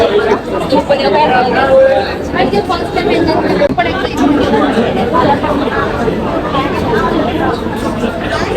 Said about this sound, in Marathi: गाईज बघा आलोय किती गर्दी आहे